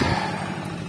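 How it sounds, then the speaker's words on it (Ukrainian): A tractor-drawn potato digger runs on a Lviv-region potato field, its engine a steady, close, rumbling drone with no break across the short stretch. "Ось такий тракторець. Їде, буде копати, поки не викопаємо."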